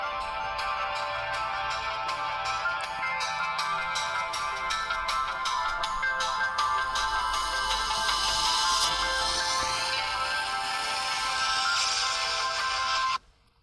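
The ringtone of a LeEco Cool1 Dual phone plays through its loudspeaker as a bright, continuous electronic melody lasting over ten seconds, then cuts off abruptly.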